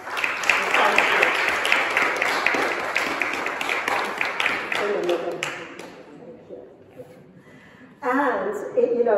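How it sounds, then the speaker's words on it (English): Lively applause from a congregation at a Mothering Sunday family service in a parish church, dense and close for about five seconds, then thinning out and fading, with speech resuming afterwards. "A round of applause."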